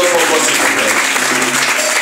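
Loud, dense applause from a church congregation at Nouvelle Jérusalem, steady and continuous clapping filling the room with faint voices mixed underneath.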